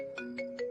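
A phone rings out on an unanswered call, three short electronic ringtone bursts repeating in an even rhythm over a steady tone, close and clear with no talking.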